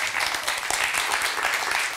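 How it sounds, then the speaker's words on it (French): Audience applause at a comedy show, steady dense clapping filling the room for a couple of seconds with no voices over it. "oui, ça s'applaudit."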